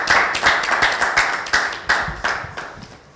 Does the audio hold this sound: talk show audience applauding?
yes